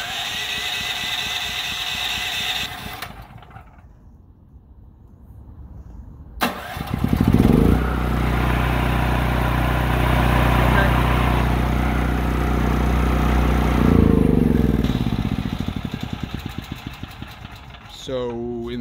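Firman T07571/T07573 tri-fuel generator on natural gas, switched over from propane, cranks and catches, then runs with a steady mid-pitched drone before shutting down near the end.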